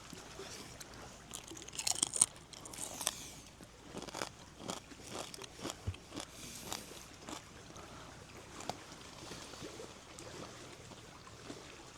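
Crunchy bites and steady chewing of cooked eggs at an outdoor weekend breakfast, close and fairly loud, recurring irregularly with no talk over it.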